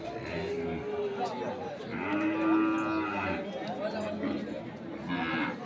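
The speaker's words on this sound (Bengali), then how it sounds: "আমরা এখানে একটি গরু দেখছিলাম" Sahiwal cattle moo at a busy livestock market, several drawn-out calls rising over constant crowd chatter and bargaining voices nearby.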